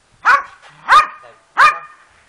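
A Polish Lowland Sheepdog barks on command, three loud, close barks evenly spaced with short pauses, each a sharp bark trailing off slightly, with no talk over them.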